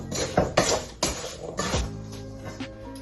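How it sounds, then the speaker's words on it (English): A spoon knocks and scrapes against a bowl while coating sliced apples for a vegan apple crumble cake, with several close clinks and a softer scraping stir in between. "take my spoon and make sure all the apples are coated"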